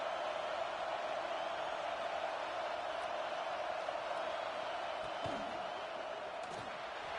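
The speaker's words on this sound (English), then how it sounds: "This crowd is trying to inspire this defense to make a big red zone stop." Steady, dense crowd roar in an American football video game fills the space at an even level throughout, a broad wash of stadium noise with faint voices and thumps inside it.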